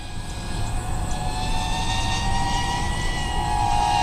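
A Helifar Fuuton 2 FPV racing drone flies outdoors around a tree, its motors giving a steady high whine with a constant buzzing drone that holds level throughout, fairly close and loud, with no talking.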